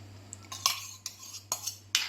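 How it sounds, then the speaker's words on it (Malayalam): A spoon stirs mango pulissery, a Kerala yogurt curry, in a pot right after the yogurt goes in, giving five or six sharp metallic clinks and scrapes at an irregular pace over a steady low hum. "തൈര് ഒഴിച്ചാൽ നമ്മൾ ഇളക്കിക്കൊണ്ടിരിക്കണം കേട്ടോ"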